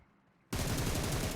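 Gunfire in PUBG Mobile on the Erangel map during a crown-tier duo-versus-squad match, as a player lays down suppressing fire: after half a second of quiet, a loud rapid burst of shots rattles on continuously and close.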